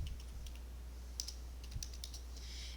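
Light, quick clicks of numbers being keyed into a calculator, scattered taps in small bursts, close but faint over a low steady hum.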